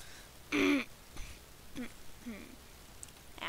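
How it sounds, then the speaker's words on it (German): Someone clears their throat once with a short, raspy burst, followed by a few faint throat noises and murmurs, quiet and close during a Roblox gaming session. "ihr hört wahrscheinlich noch, ich räusper mich, ich räusper mich noch."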